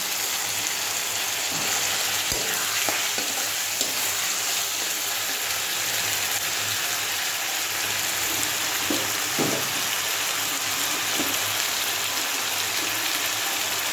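Tomatoes sizzle in hot oil in a pan, a dense, steady, rain-like hiss with a few faint clinks and stirring knocks.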